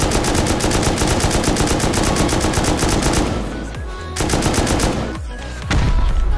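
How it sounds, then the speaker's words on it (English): Rapid automatic gunfire in the survival game Rust, a loud sustained burst of closely spaced shots that breaks off briefly before a few more single reports and another dense volley at the end. "I'm gonna start shooting where they're upgrading here."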